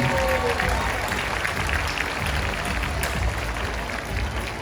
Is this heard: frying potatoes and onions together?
no